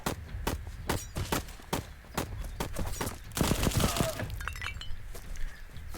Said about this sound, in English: I got a machine gun, baby